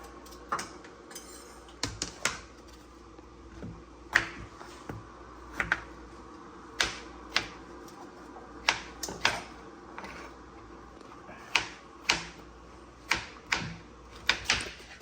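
A knife chops backyard squash on a cutting board in a string of sharp, crisp knocks, irregularly spaced about once a second, close and clear over a quiet background.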